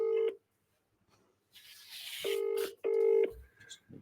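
Telephone call tones from a phone on loudspeaker, a few short electronic beeps separated by silence, then a brief muffled noise and another pair of tones, close and clear.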